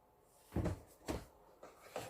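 A plastic vegetable drawer from an old fridge is slid and knocked into place in a new fridge, giving four dull thumps and scrapes at close range in a quiet kitchen.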